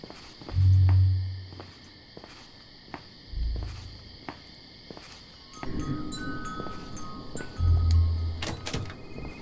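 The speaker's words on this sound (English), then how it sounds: "I hear footsteps. I hear footsteps!" Heavy, thudding footsteps in a video game land a few times with pauses between, over a quiet hum and faint background ticks.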